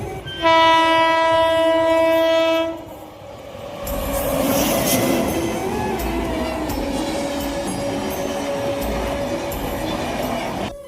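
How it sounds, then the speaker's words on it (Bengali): A passing train sounds a loud sustained horn for a couple of seconds, then its wagons rumble and clatter steadily past close by, with no one speaking. "তখনই আমার সামনে দিয়ে চলে যাচ্ছে ট্রেন।"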